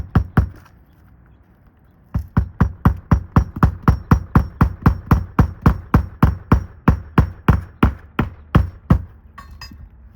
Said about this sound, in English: And I just hammer it down.